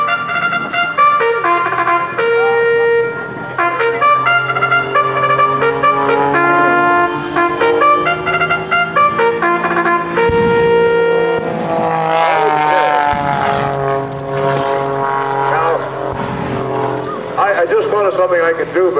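A jet-powered Ramjet truck races at an air show, its loud, whining jet roar sustained throughout and swelling to a rough peak near the end, with a voice heard over it.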